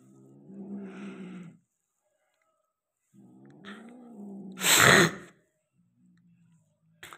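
Two cats mating at night: two drawn-out, moaning yowls rise and fall, followed by a sharp hissing burst, heard nearby in a quiet night setting.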